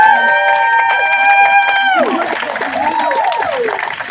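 An audience at a community gathering claps as a sustained musical tone ends, and the applause continues while voices talk over it.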